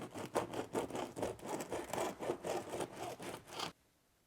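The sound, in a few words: bread knife cutting into sourdough loaf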